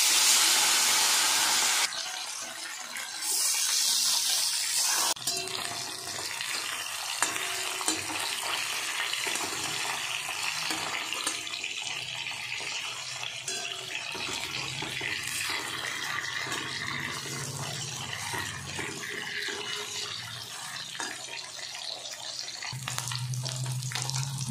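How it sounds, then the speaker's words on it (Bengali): Fish, rohu for a curry, frying in hot oil in a wok gives a steady, close sizzle and hiss that carries on throughout, with a few louder crackling bursts and clatter of stirring. "তেল গরম হয়ে গেছে, এবার আমি মাছগুলো ভেজে নেব।"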